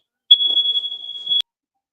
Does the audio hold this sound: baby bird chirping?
no